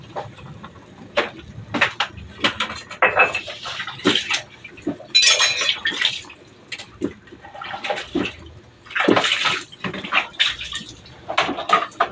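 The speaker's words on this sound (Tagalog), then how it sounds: "Haluin lang natin para hindi magdikit ang ating mga pasta." A spoon stirs pasta in a cooking pot of soup, with repeated scraping clinks of metal on the pot and wet sloshing in an irregular rhythm, close and fairly loud, with no talking.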